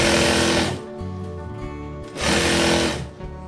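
Domestic sewing machine stitching a long palazzo, running in two steady, loud bursts of rapid mechanical chatter with a brief slowdown between them; no talking.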